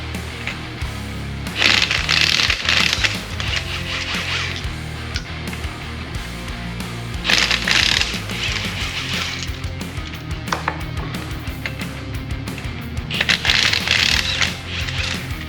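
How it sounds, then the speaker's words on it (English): A ratchet with a 19 mm socket works the wheel lug nuts off a 1993 GMC Sierra in a garage, making three separate bursts of rapid, close clicking with quieter pauses between them. "let's go ahead and get the wheels removed here. Make sure I've got the right socket. Yep, 19 mil."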